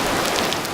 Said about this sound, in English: it is downpouring right now